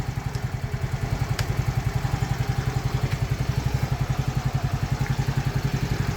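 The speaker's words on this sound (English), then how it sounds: "Once I start this, the engine makes different type of sound." A Yamaha RayZR 125cc Fi scooter, a fuel-injected BS6 model, idles steadily up close with an even, rapid low putter and faint mechanical clatter, with no other sounds.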